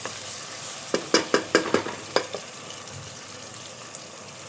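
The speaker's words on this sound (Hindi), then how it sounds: "अब इसमें हमने 2 टेबलस्पून लहसुन अदरक के पेस्ट के शामिल कर देने हैं और हमने इसको अच्छे तरीके से सिर्फ 10 सेकंड तक हमने इसे शैलो फ्राई करना है।" Ginger garlic paste shallow frying in hot oil for palak gosht, heard as a quick run of sharp spattering pops and stirring scrapes near the middle, over a soft steady sizzle.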